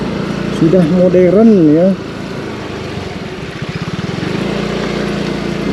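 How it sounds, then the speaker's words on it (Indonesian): Tractor engine chugging in a rice paddy in a rural Sukabumi village, a steady mid-distance rumble with a rhythmic pulsing stretch, heard beneath a man's speech and a brief sung phrase. "Ternyata masih pakai traktor juga."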